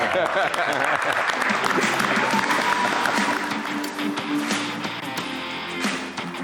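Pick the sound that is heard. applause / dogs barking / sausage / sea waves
applause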